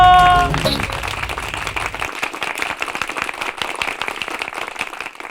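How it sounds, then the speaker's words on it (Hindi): A brief musical sting fades into steady clapping from a crowd, rapid and continuous, lasting several seconds without voices. "जोरदार तालियां बच्चों।"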